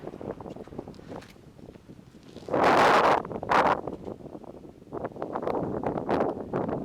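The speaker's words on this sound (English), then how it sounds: "might get a little windy" Wind on a mountain pass on the John Muir Trail rushes and buffets the microphone in strong gusts, with a loud blast in the middle and steady gusting before and after.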